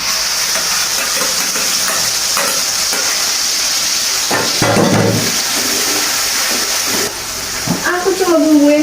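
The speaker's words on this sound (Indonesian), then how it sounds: "Minyaknya udah panas, jadi langsung aja kita masukin cabenya." Green chili peppers frying in hot oil give a loud, steady, close sizzle with a brief surge of spitting midway. A voice speaks near the end.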